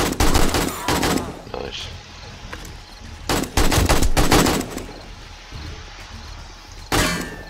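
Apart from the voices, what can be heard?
pistol gunshots in video game 7 Days to Die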